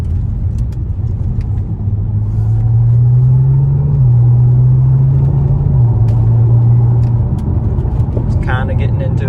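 Audi A6 fitted with a Magnaflow catback exhaust accelerating on a rough road, a steady low engine drone rising in pitch as it pulls, heard from inside the cabin with a faint voice and small rattles.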